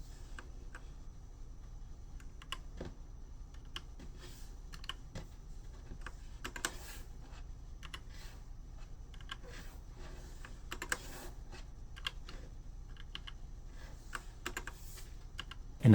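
Keys clack on a TMKB GK61 60% mechanical keyboard, a quiet, close run of irregular taps and sharper clicks continuing steadily for about sixteen seconds with no voices.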